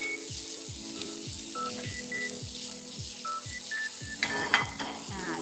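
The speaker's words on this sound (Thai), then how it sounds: "สามเกลือนะคะซึ่งประกอบด้วยราก ผักชีกระเทียมพริกไทยนะคะ ผัดให้หอมนะคะ" Coriander root, garlic and pepper paste stir-fried in a pan over medium heat gives a steady close sizzle with regular scraping strokes, a few bright electronic beeps sounding over it.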